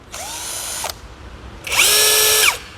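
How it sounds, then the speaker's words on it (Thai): Two bursts from a cordless drill: a short whine that spins up and cuts off, a pause, then a louder, longer high-pitched run that winds down. No talk. "เปรียบเทียบกับสว่านรุ่นเก่านะพี่"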